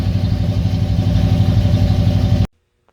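A 1978 Ford F-150 truck engine runs loud and close with a rhythmic, throbbing exhaust pulse, then cuts off abruptly, leaving near silence and one faint click.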